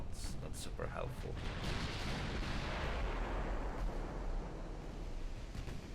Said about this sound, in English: They are firing everywhere except where I need them, which is not super helpful.